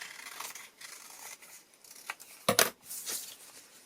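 Scissors snipping around a dome shape cut from paper for a flexible fish craft, a run of quiet close snips with one sharper louder cut midway.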